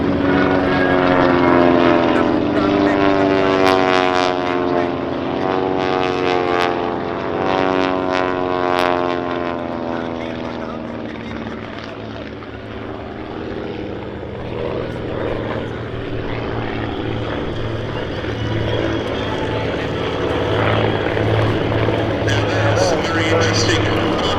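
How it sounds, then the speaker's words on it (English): A low-wing propeller training aircraft with side-by-side cockpit seating flies past at the Duxford Summer Air Show, its engine drone loud and continuous, with a steady hum that slowly shifts in pitch as the plane passes. "Een ranke laagdekker, waarin instructeur en leerling naast elkaar in de cockpit kunnen zitten."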